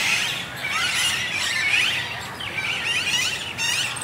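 A flock of Alexandrine parakeets in a park shrieking and squawking continuously, loud, overlapping harsh calls with no pauses.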